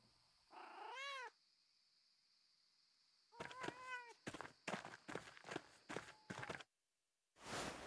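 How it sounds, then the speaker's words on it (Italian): A cat in the game Pentiment meows several times as it is petted, a couple of clear, close meows followed by a run of short, repeated cat calls and soft bursts of movement. "accarezziamo ancora il gatto"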